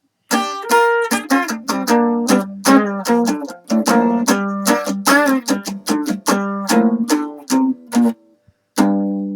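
A sequence of plucked guitar notes climbs and descends an A pentatonic scale, each note ringing briefly in a quick, even rhythm, with a short pause before a final note.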